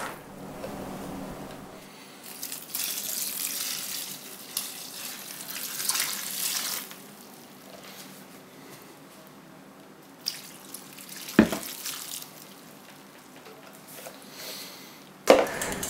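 Cold water poured over 1.5 kg of dry substrate pellets for growing oyster mushrooms, a steady splashing pour for most of the stretch, with a few sharp knocks and clatters as the container is handled.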